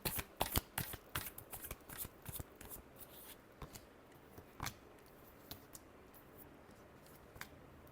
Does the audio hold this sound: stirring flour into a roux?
no